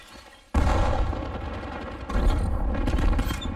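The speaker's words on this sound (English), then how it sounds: "Bomb dropped." Bomb explosion in the Call of Duty Black Ops 7 beta, a sudden loud blast erupting after a quiet moment, followed by a sustained roaring rumble and a second surge of crackling detonations, close and dense.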